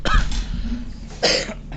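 Two short, harsh coughs close up, separated by a brief pause.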